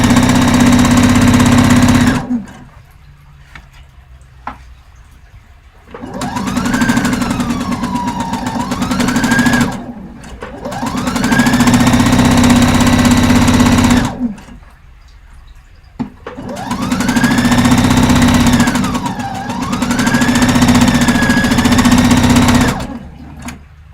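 A home sewing machine stitches forward and back at a regular stitch length, running in loud close bursts of a few seconds each, separated by quiet pauses.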